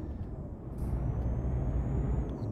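Heavy truck engine in Euro Truck Simulator 2 rumbles steadily as the driver throttles up, a loud low drone with a brief airy hiss near the start and no talk.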